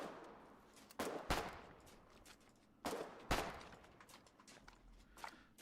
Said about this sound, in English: Why do I hear so much shooting in the southwest?